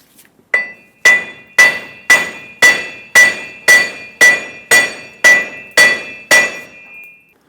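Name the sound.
hammer tapping axle shaft out of wheel hub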